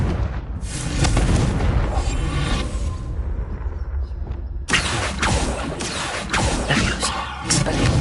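Booming spell blasts from the Confringo fire curse in Hogwarts Legacy, two dense explosive bursts separated by a brief dip, loud and close with no talking.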